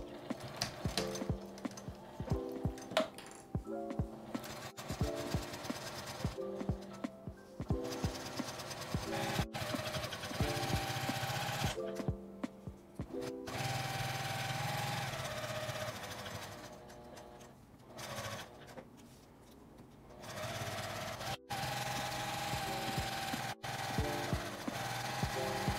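A sewing machine stitches pieced fabric scraps into a cloth shoulder strap, running in rapid rhythmic bursts separated by short pauses. It is fairly quiet and close, with no speech.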